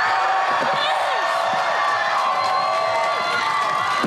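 A high-energy crowd at a live Sony Big Air Triples show roars and cheers continuously, a dense wall of shouting and whooping that fills the whole stretch, loud and steady with scattered voices rising out of it.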